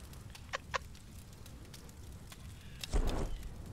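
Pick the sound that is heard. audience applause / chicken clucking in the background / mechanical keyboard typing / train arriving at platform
chicken clucking in the background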